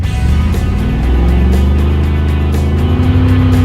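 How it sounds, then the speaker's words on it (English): A car engine roars loudly and continuously at high revs during a burnout, holding a steady droning pitch with slight rises, no talking. "We need to do a burnout"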